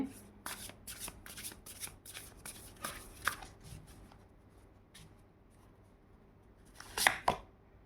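Tarot cards are shuffled by hand in a quick run of crisp riffling flicks, then a pause, followed by a couple of sharper card snaps near the end, close and fairly quiet.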